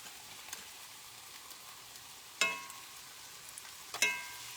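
Bologna slices fry in a pan for fried bologna, giving a faint steady sizzle with two sharper spitting pops. The sizzle is quiet and there is no talk.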